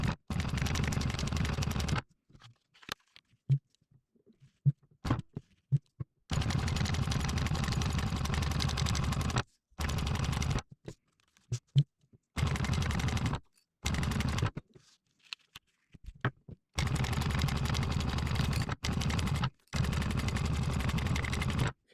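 A sewing machine stitches webbing for an EUD bridge harness in loud bursts of rapid mechanical chatter, starting and stopping with silent gaps between runs.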